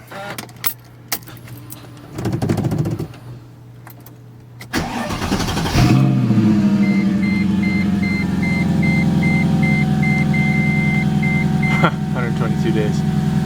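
A Mercedes C55 AMG V8, fitted with new spark plugs and coil packs, cranks and fires after keys jangle and a door closes, then settles into a loud, steady idle close by, with a chime beeping in the background.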